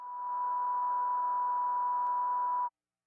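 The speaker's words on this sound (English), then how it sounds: "the high-pitched tone you get from the Serato record" A steady high-pitched electronic timecode control tone from a Serato record on a turntable holds for under three seconds, then cuts off abruptly.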